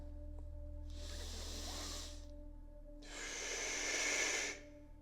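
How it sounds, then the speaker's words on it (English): Two slow, airy breaths close to the mic during a triangular breathing exercise, a soft inhale of about a second followed after a pause by a longer, louder exhale, over a faint low hum. "Triangular breathing. You breathe in, say 3 seconds. You breathe out straight away for 3 seconds."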